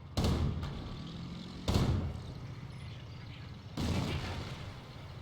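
Aircraft strafing run in the Company of Heroes strategy game, heard as three heavy booming impacts spaced a couple of seconds apart, each with a rumbling decay, loud and close with no voices.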